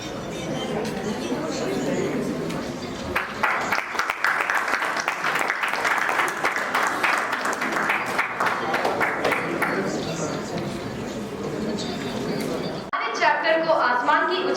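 Audience applause at a JCI Raipur Royal Capital award and oath function, sustained dense clapping filling most of the stretch, loud and close, with a short pause and then more clapping at the end.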